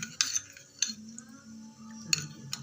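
Spoon clinking against a bowl while stirring a custard mixture, with a few sharp metallic taps and scrapes at irregular intervals over a low hum, close and fairly quiet.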